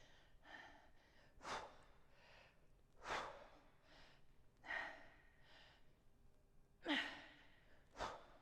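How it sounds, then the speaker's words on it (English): Heavy, tired exhalations during a short rest break in a total-body strength workout: five loud breathy sighs at irregular intervals, each one close and alone with no talk. "You can hear me breathing more now."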